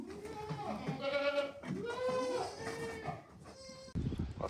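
A pregnant Saanen goat bleats close by in a few drawn-out, wavering cries, with a brief rustle at the end.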